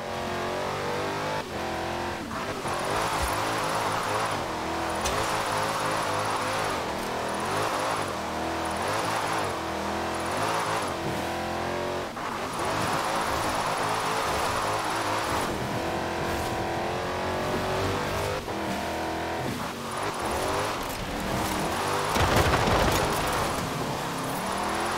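Engine of a drifting car in Forza Horizon roars steadily for the whole stretch, with repeated revving surges and gear changes plus occasional tire squeal, loud and continuous with no talking.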